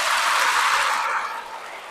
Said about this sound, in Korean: 이 시대의 모든 본당 사제들을 위해서 박수 한번 쳐봅시다